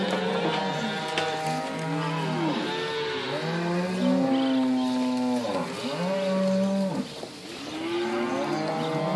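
Cattle on a farm moo loudly and repeatedly, long drawn-out lowing calls overlapping one another from several animals nearby, with no talk.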